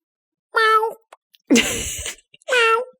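A cat meows three times in a row, each call clear, close and evenly spaced with short pauses between, standing alone without any talk.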